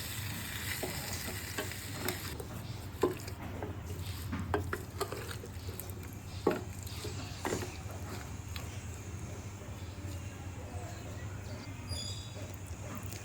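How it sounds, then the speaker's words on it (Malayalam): Gooseberry pickle (nellikka achar) stirred in a pan, giving a low simmering sizzle with scattered light scrapes and taps of the spoon against the pan, fairly quiet and close. "അപ്പോൾ ഇത് നന്നായിട്ട് ഇളക്കി നന്നായിട്ട് യോജിപ്പിക്കണം നെല്ലിക്കയുമായിട്ട്."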